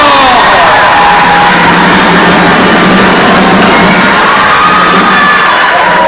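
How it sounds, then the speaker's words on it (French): A school improv theatre audience erupts in loud, sustained cheering, shouting and clapping that fills the whole stretch without a break. "On les applaudit bien fort."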